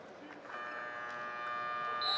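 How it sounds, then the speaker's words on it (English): A volleyball match buzzer between France and Japan at the 2025 Nations League sounds as a steady tonal drone, sustained and fairly clear throughout, with a commentator speaking over it. "For the second time, the buzzer has gone off."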